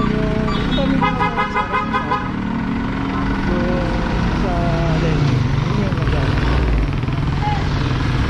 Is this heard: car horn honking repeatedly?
yes